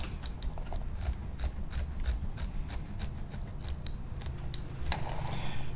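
Rapid repeated snips of scissors cutting through rod sock fabric, a close, crisp rhythm of many short cuts with a few sharper clicks near the end, no voices.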